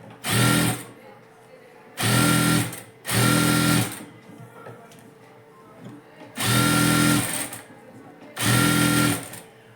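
Sewing machine stitching a blouse joined to its lining, running in five steady bursts of about a second each with quieter pauses between, close and loud.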